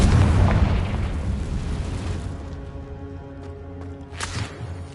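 A Confringo blast from Hogwarts Legacy hits hard at the start and its rumble slowly fades away. Faint tones and a small late crackle linger after.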